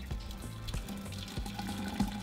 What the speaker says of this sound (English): now we're just going to pour our mixture into our pitcher